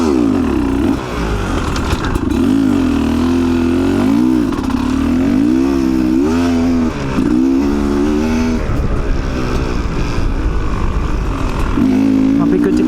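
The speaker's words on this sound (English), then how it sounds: "That FMF sounds fucking great." A dirt bike fitted with an FMF exhaust revs hard and rides off on desert sand, its engine loud and close, rising and falling through repeated throttle surges.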